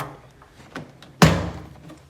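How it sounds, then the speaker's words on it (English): The metal door of a Costway electric portable compact clothes dryer, latched by a pin and plastic barb, shuts with one sharp, close thunk after faint handling noises. "Okay, the door, it's got a pin and a plastic sort of barb that goes into the sort of classic squeeze type."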